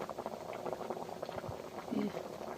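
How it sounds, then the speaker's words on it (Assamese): A pot of vegetable curry bubbles on the stove with soft, steady simmering and burbling, close and moderately quiet, running continuously under a person talking. "উতলি আছে ধুনীয়াকৈ।"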